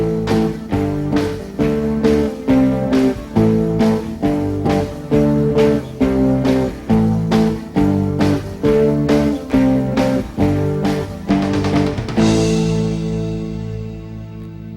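Guitar strumming power chords in a steady beginner's rhythm, two chords per measure with even down-strokes, loud and alone, ending on a final chord left to ring out and fade.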